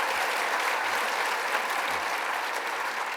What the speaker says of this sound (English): let's start with a round of applause for him